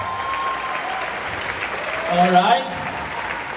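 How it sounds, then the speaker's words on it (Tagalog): Audience applause at a gathering, steady clapping across the whole stretch, swelling briefly near the end, with someone speaking a word over it. "Yan lang ba yung palakpak?"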